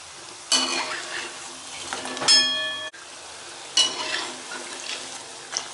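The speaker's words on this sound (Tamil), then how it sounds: "ஹை ஃப்ளேமில் இருக்கும்போது மாவு வந்து உள்ளே போட்டுட்டு உடனே அடுப்பை குறைச்சி வச்சுடுங்க." Wheat flour bondas fry in hot oil with a steady sizzle, while utensils scrape and clink against the pan in bursts.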